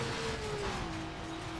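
A Mazda in the Need for Speed Underground video game pulls away from a standstill, a faint engine whine rising steadily in pitch over a dense, hissing background.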